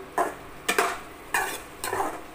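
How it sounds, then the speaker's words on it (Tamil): Mushrooms being sautéed in a pan for a gravy, heard as four short scraping stirs of a spoon against the pan over a faint sizzle, close and without talk. "அந்த காளானை போட்டுக்கலாம். கிரேவி மாதிரி போட்டு அதையும் சேர்த்து வதக்கிக்கலாம்."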